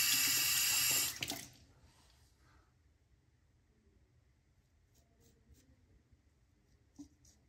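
Water from a tap splashes loudly into a sink during a wet shave, running for about a second before being shut off, followed by faint handling noises in a quiet room.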